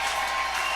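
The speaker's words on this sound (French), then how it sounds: "tu peux applaudir très fort" A church congregation applauds loudly at a French-language worship service, dense steady clapping filling the short moment without any voices.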